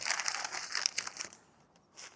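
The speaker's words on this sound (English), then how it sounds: "take this and crumple it up as many pieces as you can, like big balls." Paper gets crumpled by hand into big balls for building a campfire outdoors, a close, steady crinkling and crushing that fades out and then returns briefly, with no talking.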